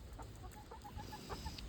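Chickens trying corn on the cob for the first time give off soft, scattered clucks, a series of short chirpy calls over a steady low background hum.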